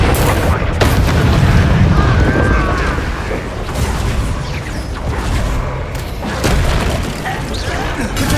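A Bombarda spell blasting in Hogwarts Legacy, a heavy booming explosion with a rumbling low-end burst that swells loud early and again near the end, mixed with game effects and some voice.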